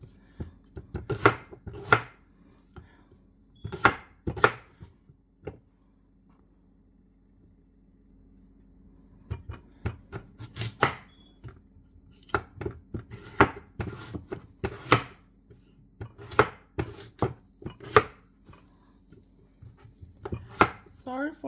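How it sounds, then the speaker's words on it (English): Potatoes and vegetables being cut into cubes on a noisy chopping board: sharp knife chops land in quick bursts of several strokes, close and crisp, with a quiet gap partway through before the rhythmic chopping resumes. "The chopping board is making that weird noise."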